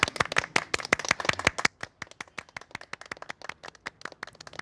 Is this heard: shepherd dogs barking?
no